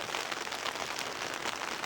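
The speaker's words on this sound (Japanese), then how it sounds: "雨が強くなってきました。" Heavy rain pours down at Funakoshi fishing port in Itoshima, a dense, steady hiss of drops pounding surfaces that fills the whole space without any pause.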